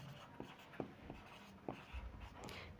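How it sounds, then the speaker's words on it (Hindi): Chalk or marker writes on a board during a Hindi physics lesson, making several short, faint scratchy strokes in an uneven rhythm in a quiet room. "तो चलिए यहाँ पे लिखते हैं"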